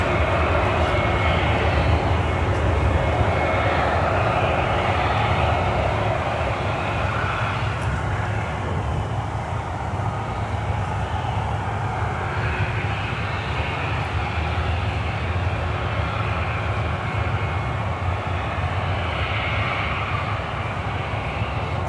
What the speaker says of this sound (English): I hear turbine noise.